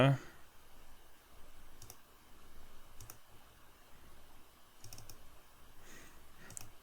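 A computer mouse clicks faintly and sparsely, a few single clicks spaced seconds apart over a quiet, hushed room background.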